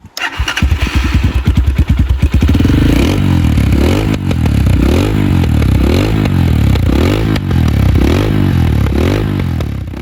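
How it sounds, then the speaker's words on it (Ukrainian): A Geon Terrax 250 motorcycle engine starts with a rapid clatter, then idles loudly and revs up repeatedly in a steady rising-and-falling rhythm, close by. "Перейдемо до смр тесту даного мотоцикла."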